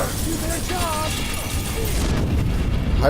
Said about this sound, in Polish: Tak, jeszcze coś wybucha